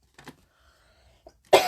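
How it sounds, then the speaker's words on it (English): A person coughing, two short faint throat sounds followed by one sharp, loud cough at the end in an otherwise quiet room. "I've come home with a really nasty cough"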